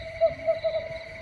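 A voice imitates an owl's hoot, a few soft, breathy hooting notes in a steady rhythm over a faint background hum.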